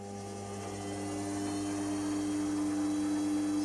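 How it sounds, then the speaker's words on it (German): A metal lathe in a home workshop runs steadily with its longitudinal feed engaged, giving a constant, even motor hum with strong tonal drone and no speech. "es wäre also die Drehmaschine in Betrieb mit dem entsprechenden jetzt Längsvorschub gewählt"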